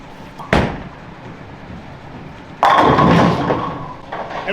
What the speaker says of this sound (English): we're going to throw this bowling ball